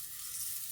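Pearl barley toasting in a pan makes a dense, continuous sizzle, close and fairly loud, with no voices over it.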